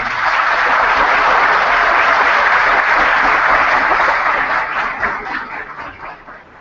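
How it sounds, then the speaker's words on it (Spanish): Loud, dense applause from an audience at a university event honoring guest Pedro Pablo Kuczynski, sustained steadily before tapering off near the end. "Fuertes palmas para él."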